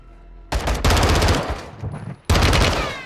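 Automatic gunfire in the Call of Duty Modern Warfare 2 campaign, loud rapid bursts of shots close up, separated by short pauses, with a final sustained burst after a brief gap.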